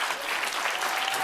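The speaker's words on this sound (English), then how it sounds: "And listen to them clap" A studio audience applauds steadily, a dense wash of clapping held at a constant level throughout, close and full with no pauses.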